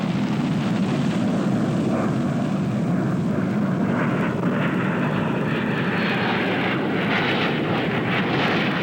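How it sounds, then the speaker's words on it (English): An F-4 Phantom jet roars steadily and loudly as it climbs and accelerates just after takeoff, heard from on board as a continuous broad engine rush with no voices. "Skip retracts the landing gear and flaps, accelerates his aircraft at 280 miles per hour"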